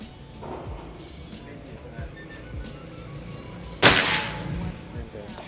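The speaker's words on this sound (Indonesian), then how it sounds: "Selanjutnya tembakan yang ketujuh, ini tembakan yang terakhir." A single sharp PCP air rifle shot cracks out during long-range target testing at 50 meters, over faint outdoor background noise, with muffled talking around it.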